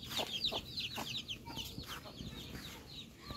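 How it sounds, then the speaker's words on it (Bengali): Hens cluck repeatedly in a farmyard where newly hatched chicks are being raised, a busy overlapping run of short clucks at moderate distance, with high bird chirps mixed in and no talking. "হাই মুরগি।"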